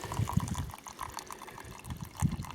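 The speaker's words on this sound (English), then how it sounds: "I found running water at the expected spot, although only the barest trickle." Barest trickle of running water on Dartmoor moorland, a faint, steady liquid burble with a few soft low splashes, quiet and continuous throughout.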